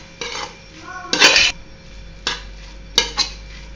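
Metal spoon stirring masala and salt in a pan over a low flame while making egg fried rice, giving a few sharp scraping clatters against the pan with quieter gaps between.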